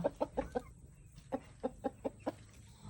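A chicken clucks in short repeated bursts, a quick run of four, a pause, then another steady series, fairly close with no talking.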